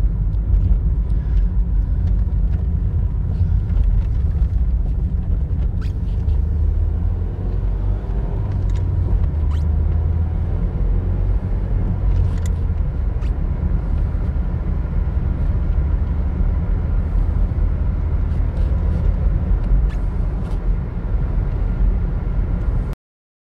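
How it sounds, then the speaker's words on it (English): An old Ford Sierra Mk1 GL is under way. Its engine and road noise make a steady, deep rumble that is heard from inside the cabin, continuous and even for over twenty seconds, with no voices. "Really enjoying driving this old car. It's got loads of zip."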